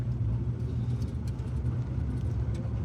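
A convertible Ford Mustang drives steadily with a low engine rumble and road noise, heard continuously from inside the car.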